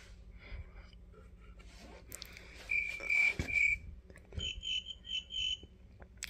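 High, repeated electronic chirps in short bursts, first a few quick ones then a rapid string of warbling beeps, over a quiet room with some soft rustling.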